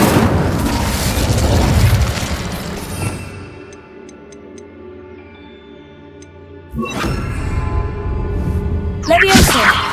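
An Incendio fire spell cast in Hogwarts Legacy: a loud fiery burst and roar that dies into quiet ringing tones, followed by another sudden blast and a final sharp flare near the end.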